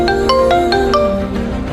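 A phone rings with an incoming call from home, playing a quick, repeating melodic ringtone of bright beeps, close and fairly loud.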